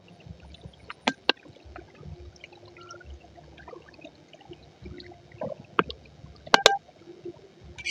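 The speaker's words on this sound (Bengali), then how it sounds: "এখন দিয়ে দিব পানি।" Water goes into a pan of country chicken curry with potatoes that has been fried until the oil separates. Sparse splashes, drips and a few sharp clinks are heard close by, fairly quiet, with no talking.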